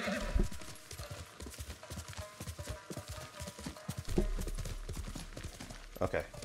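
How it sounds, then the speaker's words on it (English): Rhythmic hoofbeats of a horse in the video game Ghost of Tsushima clip-clopping along at a quick pace, fairly close, with a voice speaking over parts of it. "Let me get my horse."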